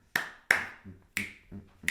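Sharp hand claps mark the Misra Chapu tala, four crisp, close strikes in an uneven rhythm over about two seconds with no voice.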